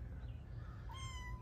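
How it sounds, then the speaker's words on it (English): A kitten meows once, a short rising-then-falling cry close by and fairly clear over a low background hum, with no talking. "The cutest kitty that ever was."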